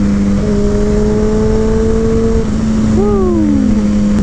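A Kawasaki Ninja ZX-10R motorcycle downshifting with a quick shifter, its steady loud engine drone broken by quick rising and falling blips as gears drop, heard close over constant wind and road noise.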